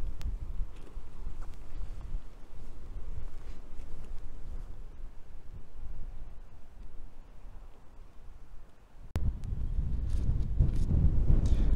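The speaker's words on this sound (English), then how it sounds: "high wind, you can see it's straining now" Lightweight Lanshan 2 Pro tent hit by high wind while camping, a steady low rumbling buffet with rustling fabric that grows stronger after a sharp snap near the end.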